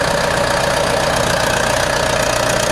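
Vehicle engine labouring steadily to haul itself and a heavy load out of a roadside ditch on the Tibetan plateau, a loud, constant rumbling drone with knocking undertones and no pause.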